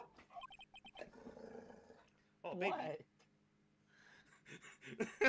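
A dog growls and pants in short bursts close by, a louder rumbling stretch near the middle, while a person talks over and around it.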